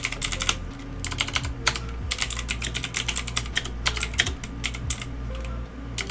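Fast, irregular typing on a computer keyboard, close and crisp, with clusters of key clicks separated by brief pauses and a low background hum underneath.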